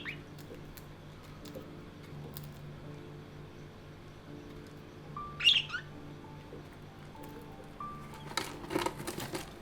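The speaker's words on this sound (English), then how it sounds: "now we have a new addition, our third baby budgie" Budgies, baby budgies among them, give faint, scattered chirps and tweets over a low steady background hum, with a brief louder squeak midway and a burst of busier chatter near the end.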